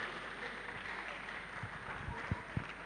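Audience applause for a guest lecturer at a university computing lecture, a fairly faint, steady patter of clapping from a crowd with a few sharper claps standing out near the end.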